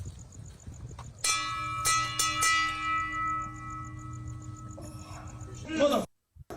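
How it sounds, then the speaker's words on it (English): Brass bell rung by a recruit quitting military-style training, several loud clangs whose ringing tones sustain and slowly fade, over steady background noise and insect-like chirping. "When they quit, they're forced to ring the bell in front of everyone."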